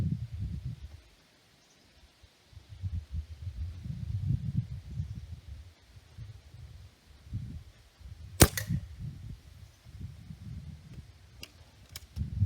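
A Stoeger A30 air rifle fires a Gamo Match 7.56 grain pellet, one sharp close crack midway over low rumbling outdoor wind, followed by a couple of faint clicks.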